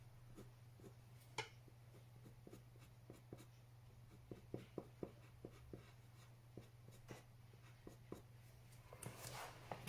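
A very sharp colored pencil draws hair strands on paper, making quick, faint, repeated scratchy strokes in irregular bursts over a steady low hum.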